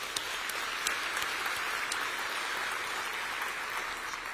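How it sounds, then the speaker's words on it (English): A conference audience at a tech talk claps in a continuous, even round of applause, fairly distant and soft, with no voices over it. "So nice round of applause, please, for all your guys."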